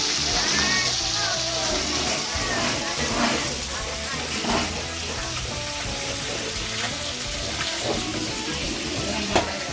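Galunggong fish fry in hot oil with a steady, loud crackling sizzle, close by and continuous, while people talk over it at a rural provincial pre-wedding feast.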